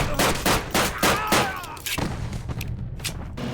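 Gunfire from the Call of Duty: United Offensive single-player campaign, with a Colt 45 pistol used against a mortar team: a rapid series of loud, sharp shots in the first two seconds, then quieter, scattered reports.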